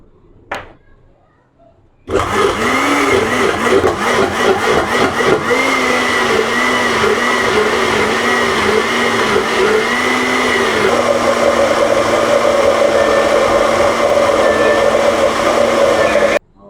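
A kitchen blender grinds ginger and green chilies into paste, roaring loud and steady for about fourteen seconds with a wavering pitch, after a brief knock and quiet start, then cuts off abruptly.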